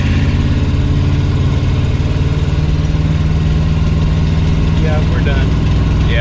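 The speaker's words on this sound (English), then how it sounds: "motor's locking up, I bet" A 1968 Mercury Cougar engine runs loud and close with a steady, heavy rumble and a faint ticking edge through the whole stretch, while voices murmur underneath.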